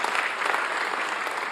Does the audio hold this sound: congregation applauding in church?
yes